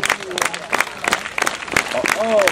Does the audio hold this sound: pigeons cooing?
no